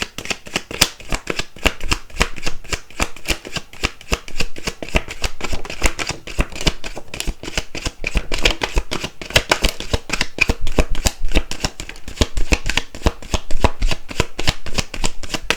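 Tarot cards shuffled continuously by hand, a dense, rapid riffling and slapping of card stock, loud and close, running for about fifteen seconds without talk.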